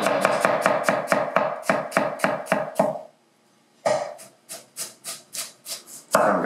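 A knife chops onions and garlic for meatloaf gravy on a board, producing a fast run of crisp, evenly spaced close chops, a brief pause, then a slower, softer series.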